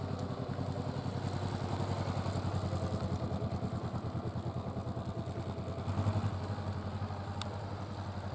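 Motorcycle engine turning over at low revs during a slow-speed turning drill on an uphill road hairpin in a riding course, a steady close idle-like putter with a brief swell near the end.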